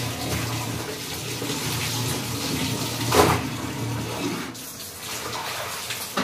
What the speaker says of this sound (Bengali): চলো জামাকাপড় ধুয়ে নিই।